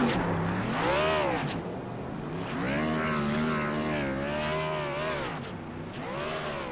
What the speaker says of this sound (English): Trying to burn out down the entire length of the front stretch